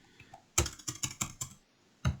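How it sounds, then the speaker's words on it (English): Quick bursts of computer keyboard typing, about six sharp keystroke clicks close together, then a short pause and one final key press. "Typing."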